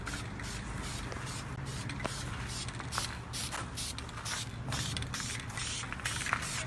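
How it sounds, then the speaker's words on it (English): Metallic spray paint hisses steadily from an aerosol can onto the backing of a piece of furniture, a continuous close spray with slight fluctuations and no pauses. "I took some spray paint, like a metallic spray paint."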